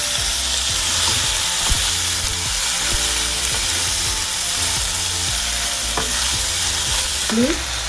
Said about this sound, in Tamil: வெங்காயத்தை போடலாம், அதையும் போட்டுக்கலாம். நல்லா வதங்கணும்.